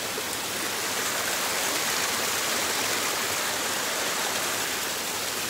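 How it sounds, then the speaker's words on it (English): A waterfall on the Appalachian Trail in the mountains during a rainstorm rushes in a steady, dense wash of white noise that stays constant throughout, with no voices. "Nice waterfalls"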